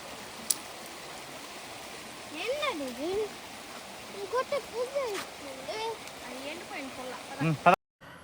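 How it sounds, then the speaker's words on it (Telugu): Water from the Aare waterfall near Pichatur in Chittoor runs through a canal in the forest as a soft, steady rushing wash, heard beneath people talking intermittently throughout. "జలపాతం దగ్గర నుంచి నీళ్లు ఇలా కాలువలో ప్రవహిస్తుంది"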